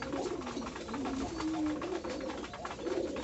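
Domestic pigeons cooing in a loft on a cold day, several overlapping low, throaty coos repeating steadily and close by with no talking.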